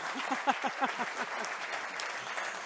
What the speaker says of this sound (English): Let's give him a huge round of applause